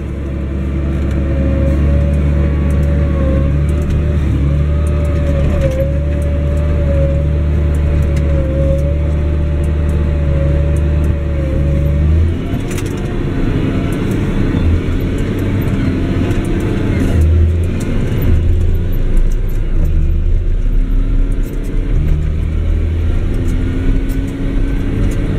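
A Challenger MT 765 C crawler tractor drives with a loud, steady engine drone and deep low rumble, a rising whine heard early on, and rattling track and cab vibration throughout, up close from inside.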